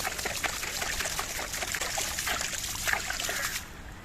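Water gushes from a motor pump into a village farm field, a steady close trickling and splashing rush that fades slightly just before the end.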